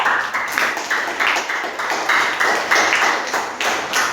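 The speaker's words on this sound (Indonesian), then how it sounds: "Tepuk tangan terlebih dahulu." A classroom of students claps after a group presentation, the hand claps coming in steady, rhythmic waves of moderate loudness that carry on without pause.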